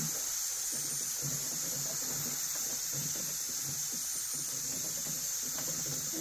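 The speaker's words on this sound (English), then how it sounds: "Maybe little steam left." Steam vents from a pressure canner holding boiling potato soup, a steady, continuous hiss at constant loudness with a low rumble underneath.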